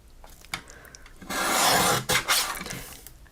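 Craft paper has its edge trimmed with a close, rasping slide of the cutter across the sheet, one loud sweep followed by a shorter second pass, with light handling noises around it.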